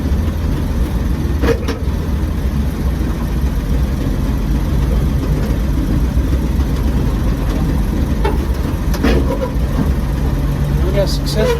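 A 1953 Chevy truck engine runs steadily on its first drive, a loud continuous low rumble with a few faint clicks and knocks over it.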